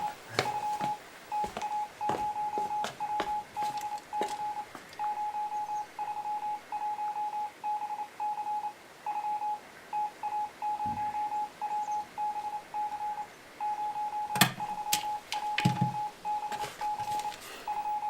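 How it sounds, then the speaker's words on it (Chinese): A telegraph key sends a telegram in Morse code in a wartime radio room. It is heard as a steady, high-pitched tone keyed in short and long beeps, with occasional clicks and knocks behind it. "把咱们的谈话组成一个电报稿，发给博古和叶剑英同志"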